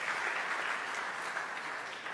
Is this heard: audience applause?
yes